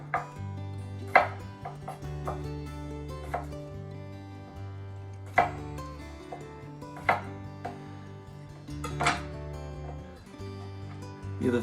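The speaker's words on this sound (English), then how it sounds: "We're just going to cut them in half, or actually long ways," Small potatoes are cut in half lengthwise with a knife on a cutting board, making sharp, separate chops at irregular intervals over a faint low hum, with no voices.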